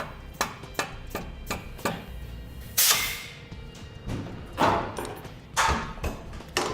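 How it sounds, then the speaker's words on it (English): Several sharp taps drive a metal spacer into place between a Blue Ox base plate and the frame of a 2015 Jeep Wrangler, with irregular knocks spread out, then louder, longer scraping thumps near the end. "May need to tap it in a little bit."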